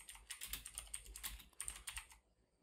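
Quiet, close keystrokes on a computer keyboard tapping in irregular quick bursts, pausing briefly partway, then trailing off into near silence.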